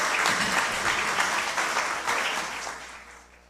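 An audience claps at a municipal legislative chamber's environmental award ceremony, a dense burst of close applause that holds steady and then tapers off toward the end.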